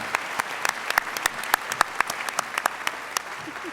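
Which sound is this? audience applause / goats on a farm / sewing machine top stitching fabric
audience applause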